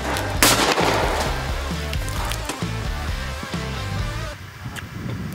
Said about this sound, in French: Tire dans deux pastèques à la balle de golf.